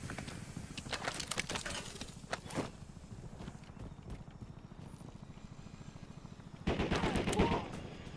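Gunfire crackles in Call of Duty Warzone as rapid bursts of shots sound at the start and again near the end, with a steady low rumble and game ambience running underneath.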